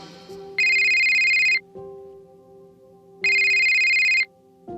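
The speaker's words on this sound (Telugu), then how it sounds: "ఇంతలో ఆకాష్ భోజనం చేస్తూ ఉండగా అతని మొబైల్కి మీరా నుండి కాల్ వచ్చింది" A mobile phone rings for an incoming call: two loud bursts of a bright electronic ringtone separated by a pause, with a faint low hum underneath and no speech.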